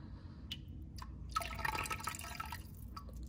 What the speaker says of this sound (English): So now we're gonna put the remainder of our vinegar